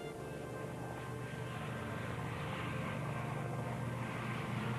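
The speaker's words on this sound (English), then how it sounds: "At 7 a.m., the planes start to take off." Overloaded WWII B-24 Liberator bombers taking off from a runway, a steady loud drone of piston engines and propellers rumbling continuously with no pauses.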